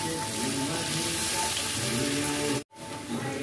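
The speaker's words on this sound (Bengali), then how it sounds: "এটাতে একটু ভাজা ভাজা হচ্ছে" Potatoes, onion, green chillies and peanuts fry in a pan, giving a steady, close hiss that breaks off for a moment near the end before resuming.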